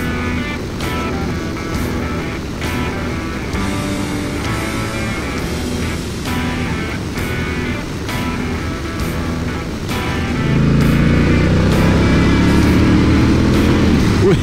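Honda Goldwing touring motorcycle on a race circuit during a track day, a steady loud engine drone that rises into a stronger, rougher roar near the end as the bike accelerates.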